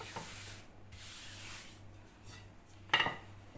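Dough for kömbe, made with potato, being rolled out on a tray: soft, quiet rubbing and scraping strokes, ending in a brief clattering knock against the tray.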